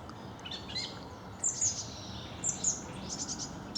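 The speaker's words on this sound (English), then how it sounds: "That's another song thrush. Sings in the dusk." A song thrush sings at dusk in repeated short, bright phrases over a steady outdoor background hiss, moderately distant.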